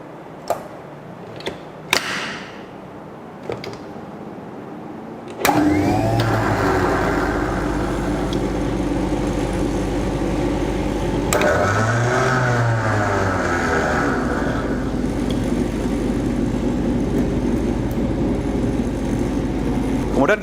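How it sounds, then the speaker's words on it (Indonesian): Avionic and cabin blowers on an aircraft electrical system trainer switch on with a sudden jump after a few quiet clicks, then run as a loud, steady whooshing hum with a brief rise partway through. "lalu mengaktifkan avionic blower dan cabin blower melalui masing-masing switch"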